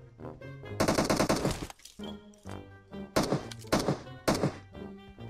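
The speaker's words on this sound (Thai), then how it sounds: "โอ้ยิงกันข้างล่างเหรอวะ" Gunfire in the mobile battle-royale game PUBG Mobile comes in several sharp bursts of rapid shots separated by short gaps, moderately loud, with no talk over it.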